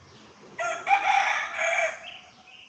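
A rooster crows once, loud and fairly close, a drawn-out cry lasting a couple of seconds with little else around it.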